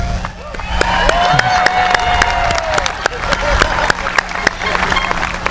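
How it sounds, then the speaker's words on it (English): An outdoor high school graduation crowd gives a sustained round of applause with claps and some cheering, and a few louder sharp claps stand out near the microphone. "Somehow I knew that would be a round of applause"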